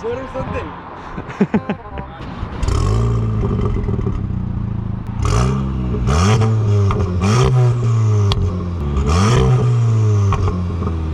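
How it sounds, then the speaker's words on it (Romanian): A 2019 VW Golf 7.5 GTI Performance engine cranks and catches, then revs up and down several times in rising and falling surges through an exhaust with a flap, loud and close, with a voice nearby. "O să-l rog acum pe vărul meu David să pornească motorul ca să auzim și noi mașina din exterior"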